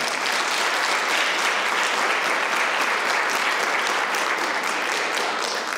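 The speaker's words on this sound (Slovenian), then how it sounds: "En aplavz." Steady audience applause fills a school drama event in a Slovenian primary school, dense clapping at an even level from start to finish with no voices over it.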